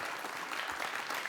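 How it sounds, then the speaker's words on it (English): Audience at a Rotary Club meeting applauding, a brief burst of steady, dense clapping from a room full of people. "Let's give everybody a big round of applause."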